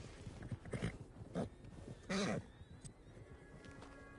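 Horse whinnies and snorts in a video game, with a loud neigh in the middle and softer hoof and movement sounds around it, fairly quiet overall.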